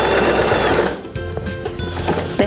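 A Janome 2032x sewing machine whirs briefly at close range while stitching a securing tack, then slows to a few separate mechanical clicks and taps, with no talking.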